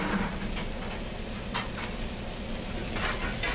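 Bacon and onions sizzle in olive oil in a pan, a continuous broadband hiss with a few brief scraping spurts from stirring, heard up close with no talk.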